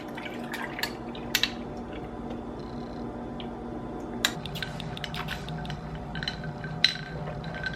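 Milk poured into a glass of iced Javy coffee over ice, a soft continuous trickle with scattered small clinks and drips, close and quiet.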